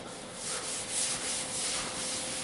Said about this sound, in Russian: давайте пройдемся теперь по капоту липкой салфеточкой